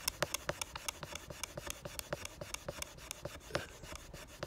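A wooden stick scrapes along a groove in a wooden base in a fire plough, making rapid, regular rasping strokes, about four per second, close up and fairly quiet, with no voices.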